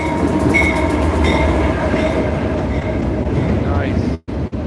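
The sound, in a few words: train engine passing close by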